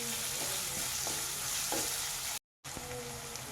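Onions fry with salt in a pan over a high flame, giving a steady sizzle broken by several sharp clinks of stirring, with one brief dropout near the end.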